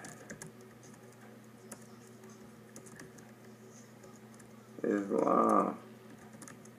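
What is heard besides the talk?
someone typing on a computer keyboard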